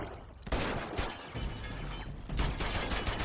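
Bursts of automatic gunfire in the Uncharted 2: Among Thieves video game, rapid loud volleys in two main clusters separated by a short stretch of quieter shots, no talking.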